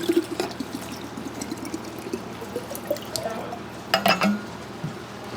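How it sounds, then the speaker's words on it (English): Mineral water pours into a bottle outdoors, a quiet trickle and splash with a brief louder gurgle near the end, with faint background sounds around it. "I'm gonna fill this mineral water into my bottle."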